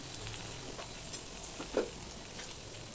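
Onion, green chilli and chopped ginger frying in a pan, a steady soft sizzle with a few brief scraping stirs, close and moderately quiet, no voices.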